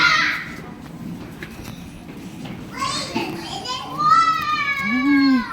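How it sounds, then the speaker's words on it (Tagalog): Children playing outdoors near an underpass leading to a pool, with high-pitched shouts and squeals close by and lively chatter throughout. "Mga bata."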